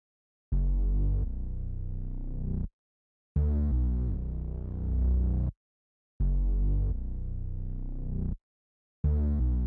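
Synth bass line from the Ferno preset in the Omnispace kit, playing deep sustained notes with a pitch glide, in four phrases of about two seconds each separated by short silences, loud and alone.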